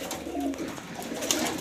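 Pigeons in a breeding loft housing Afsan grizzle birds give soft, low cooing, a steady murmuring hum close by with a brief brighter chirp near the end.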